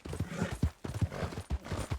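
Horse hooves clip-clopping in the video game Red Dead Redemption, a steady rhythmic series of close, fairly quiet hoofbeats with no speech over them.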